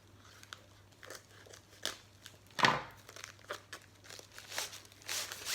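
A plastic sachet from a diamond painting kit crinkling and crackling in irregular bursts, with one sharper loud crunch midway; close and fairly quiet, with no talk.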